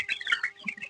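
Eighteen-day-old chickens in a poultry farm late at night make brief, close clucking and chirping sounds, all in under a second.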